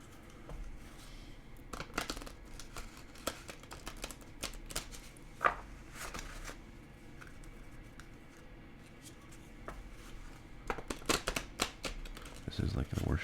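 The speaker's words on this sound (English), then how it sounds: "This is like the worst shuffling ever" Goonies board game cards being shuffled gently by hand, giving soft, uneven papery clicks and riffles that come in scattered bursts over a quiet room tone.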